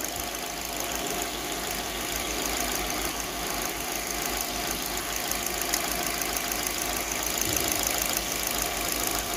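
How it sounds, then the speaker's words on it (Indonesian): A Suzuki New Carry engine with a hard-starting problem runs steadily at idle, giving a continuous close mechanical hum and rattle with no voices over it. "kita matikan dulu mesinnya"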